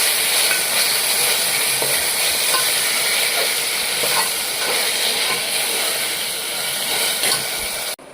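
Pulav is stirred in a pressure cooker pot, a loud continuous sizzling hiss with faint, irregular scraping strokes underneath, ending abruptly.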